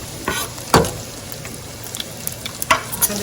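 Garlic and onion sautéing in oil over high heat, a soft sizzle broken by a few sharp stirring clatters and scrapes, close with no talk.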